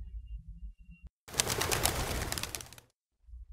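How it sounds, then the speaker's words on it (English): A pigeon coos in soft, low murmurs at the start and end, with a loud hissing burst of noise filling the middle. "I got you this pigeon."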